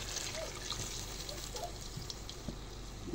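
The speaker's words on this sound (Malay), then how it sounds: "kita taruh air." Water is poured into a cooking pot in a steady, continuous stream, a close, even splashing rush that holds for several seconds without talking.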